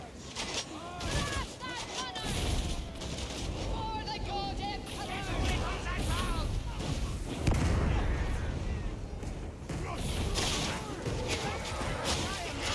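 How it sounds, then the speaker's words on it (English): Gunfire and explosions from barrels blowing up in a Warhammer 40,000 Thunderhawk Gunship video game level, a dense steady barrage of shots and blasts that runs throughout while voices talk over it. "There's a shit ton of these exploding barrels in this level."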